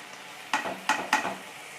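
A spoon scrapes through half-cooked vegetables with soy sauce, red chilli sauce and ketchup sizzling in a pan for vegetable fried rice, three distinct stirring strokes over a soft continuous frying hiss.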